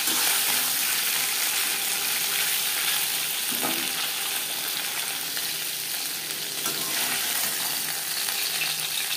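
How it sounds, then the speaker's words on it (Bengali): Shingi fish pieces lightly frying in a pan of oil, making a dense, continuous hiss and crackle at a steady level, close and loud, with no talking. "মাছ হালকা করে ভেজে নিয়েছি"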